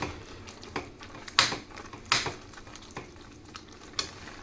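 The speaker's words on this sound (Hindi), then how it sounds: "अब हम इसमें खोआ मिक्स कर देंगे सारा" A spoon scrapes and stirs khoa into carrot gajar halwa in a pan, producing a few sharp metallic scrapes and knocks over a soft, low sizzle, close and fairly clear, with no talking.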